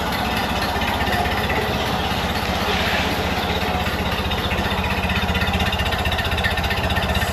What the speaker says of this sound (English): listen to the exhaust on it.